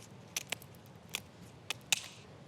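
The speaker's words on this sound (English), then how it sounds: "To split that in half, we grab some scissors and just remove them." Kitchen scissors snip through a Frenched rabbit rack to split it in half: four sharp, separate cuts spaced across a couple of seconds, close up and crisp against a quiet room.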